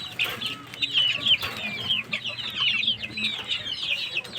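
Chicks in a coop cheep and peep in a busy, overlapping chorus of high chirps, moderately close and continuous, with some lower clucking beneath.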